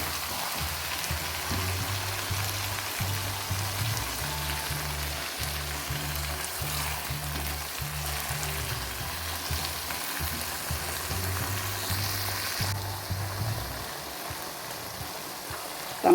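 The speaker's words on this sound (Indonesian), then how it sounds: "Masuk kecapnya ya. Kita aduk-aduk dulu ya" Stir-fried luffa with anchovies and stink beans sizzles in a pan, a dense, steady frying hiss close by, with faint stirring scrapes and no voices.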